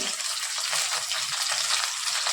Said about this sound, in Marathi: तेल छान गरम झालंय त्यानंतर आपण यात घालतोय कट करून घेतलेली भेंडी